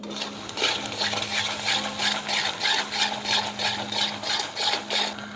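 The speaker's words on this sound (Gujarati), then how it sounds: "એકદમ મસ્ત ઘી છૂટું પડી જાય નીચે હલવો આ ચોટે નહીં ત્યાં સુધી આપણે તેને હલાવવાનું છે" Bottle gourd halwa being stirred in ghee in a pan, a steady rhythmic scraping, roughly two strokes per second, close and continuous over a faint sizzle, no talk.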